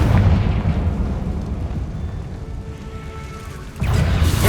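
A Confringo spell blast in Hogwarts Legacy, a loud booming explosion with rumbling debris that dies down, then a second heavy burst hits near the end, with no talk.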